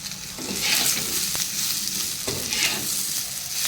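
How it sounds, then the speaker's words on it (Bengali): Pieces of ivy gourd fry in oil while being stirred, a continuous close sizzle with scraping pulses from the stirring rising and falling every second or so. "এইভাবে কুঁদরি ভাজা করলে খুব সুন্দর লাগে"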